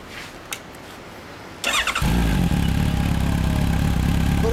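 A 2016 Honda CB1300 Super Four E Package motorcycle engine starts with a few sputters, then settles into a loud, steady idle with a low rumble close by.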